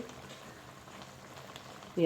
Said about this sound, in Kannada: ದೆಂಜಿ ಬೇಯ್ಯರದು ಒನಗ ಫಾಸ್ಟ್ ಗ್ಯಾಸ್ ದೀವೊಡ್ಜಿ ಸ್ಲೋಲ ದಿವರ್ಜಿ ಮೀಡಿಯಮ್ ಫ್ಲೇಮ್ಡ್ ಬೇಯೋಡು